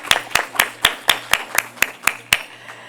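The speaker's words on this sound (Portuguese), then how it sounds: "uma salva de palmas." Evenly spaced, distinct hand claps at a conference summit, about ten crisp beats at a steady rhythm, sounding like a small number of people clapping rather than a full crowd, over a low background hum.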